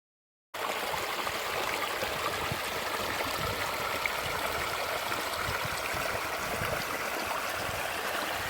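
Water in the middle fork of Coyote Creek in Henry Coe flows steadily after a brief silent start, a close, continuous rushing babble with no voices.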